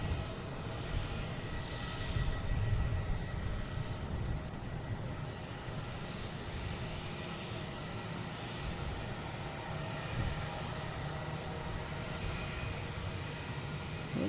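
A jet airliner just landed at Boston Logan from Chicago Midway as Flight 1280, its engines giving a steady, moderately distant roar with low rumble that swells slightly early on and then holds, no talking.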